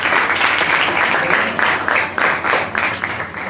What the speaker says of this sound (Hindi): तालियां बजाइए इनके हौसले के लिए